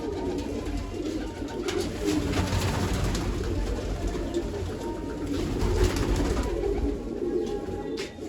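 Pigeons with dyed feathers coo steadily and close by, soft throaty calls overlapping through the whole stretch with no talking.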